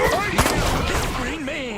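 Gunfire rattles in Destroy All Humans! (2020) as the alien Crypto shoots at police, several quick close shots in the opening half-second, tangled with game music and a voice.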